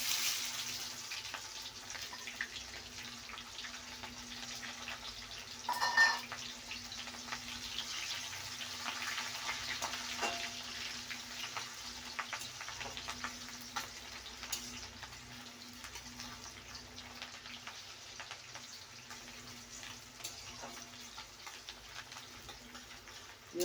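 Onions frying in oil for a Bengali dish of jackfruit seeds, Malabar spinach, pumpkin and prawns, a soft continuous sizzle with one brief louder splash, alone and fairly quiet.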